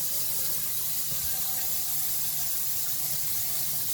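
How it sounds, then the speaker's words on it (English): Water from a faucet pours steadily down a newly installed sink drain, a constant close hiss and rush lasting throughout with no talk. "let's turn the water on and see what happens"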